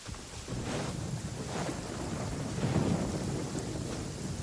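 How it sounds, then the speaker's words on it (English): Steady rain and rolling thunder from a storm in the video game Genshin Impact, a continuous wash of rainfall with low rumbles swelling and fading, heard alone without talk. "Why is it raining today?"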